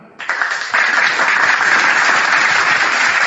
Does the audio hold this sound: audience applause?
yes